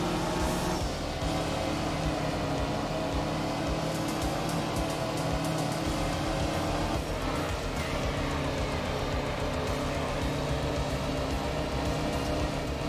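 A BMW rally car in the Art of Rally video game drives hard with a continuous loud engine roar, revs rising and falling as it powers through a stage, alone without talk.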